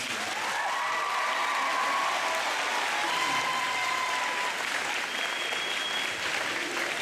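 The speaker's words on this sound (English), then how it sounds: "let's give Dan a big round of applause" A room of students at a financial literacy event gives steady, moderately distant applause that holds evenly for several seconds.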